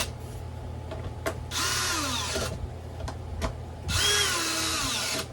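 A power drill drives screws into the tire hub of a Onewheel Pint X, with two long whirring bursts that rise and fall in pitch, separated by short clicks and handling noises.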